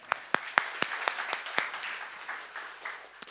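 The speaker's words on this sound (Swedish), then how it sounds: "Jag tycker vi ger honom en applåd här också." An audience at a public talk on online hate and democracy applauds for a speaker, starting with sharp, distinct claps that blend into a steady, moderately loud round of applause before tapering off.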